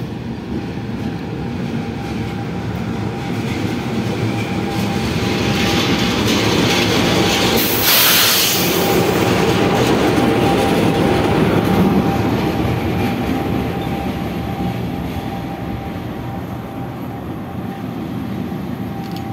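A vintage locomotive hauling a passenger train on a curved track near Yogyakarta, Indonesia, rumbling past at speed with wheel clatter, a bright rushing peak as it sweeps by close, then a steady roar of the passing cars.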